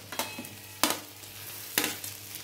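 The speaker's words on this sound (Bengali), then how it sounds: "তো আমি এখন দিয়ে দেব ভেজে রাখা কলা" Pre-fried plantain and potato go into a pan, and a soft ongoing sizzle is broken by three sharp stirring knocks of a spatula against the pan, close and without talk.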